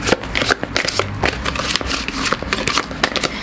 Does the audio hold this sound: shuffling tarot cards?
yes